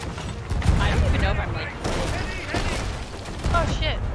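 Heavy booming blasts of cannon fire in the game Sea of Thieves come in bursts under loud, excited talking, with dense rumbling explosions throughout.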